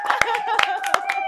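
A few people clap at a podcast taping, sharp spaced claps in an uneven rhythm, close by, over continuous talking and tonal background sound.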